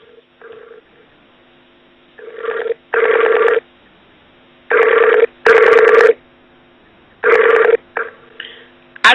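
A telephone rings repeatedly while a live call is being placed, distinct ring bursts separated by short silences, loud and close, with a few softer tones between them and no talking.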